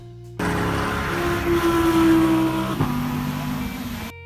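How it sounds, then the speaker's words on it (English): Audi R8 V10 sports car lapping a race track, the engine droning loud and close throughout with a rising and shifting tone and a brief gear-change dip. "An Audi R8 V10, courtesy of Xtreme Xperience."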